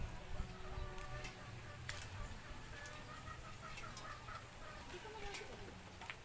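Chickens clucking in a Filipino backyard as the flock approaches, low busy clucks with a few sharp ticks spread over the clip, steady and moderately near under faint ambient noise.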